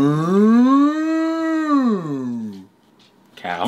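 A person imitates a cow with a long, loud, drawn-out moo lasting about two and a half seconds, followed by a brief pause and a short burst of talk.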